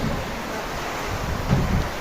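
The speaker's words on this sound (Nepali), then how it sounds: "अब पानी त पर्न थाल्यो पुरै। हावा चलिरहेको छ" A heavy monsoon downpour with gusting wind in Nepal makes a dense, steady hiss that swells slightly near the end.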